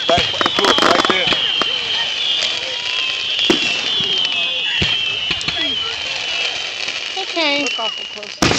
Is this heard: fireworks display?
yes